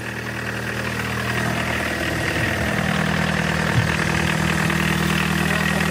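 A VW Golf 1.6 engine fitted in a homemade buggy in a home garage runs at a steady idle, a close, continuous low rumble with even vibration throughout.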